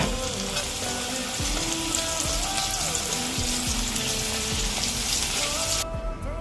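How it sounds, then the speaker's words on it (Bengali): Sliced okra chips deep-frying in hot oil give off a steady, close, busy sizzle with crackling bubbles, heard alone without talk throughout. "একে একে বাকি চিপসগুলো ভেজে নেব"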